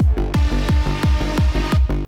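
Drum and bass track recreation built around a heavy synth saw bend bass made in Faceplant, with punchy kicks pitching down in a steady, driving rhythm and loud, dense bass and bright upper layers throughout.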